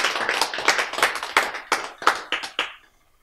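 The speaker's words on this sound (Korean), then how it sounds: "박수!" An audience claps hands in a lecture hall, starting as a quick scattered burst and thinning into a few separate sharp claps before fading to silence.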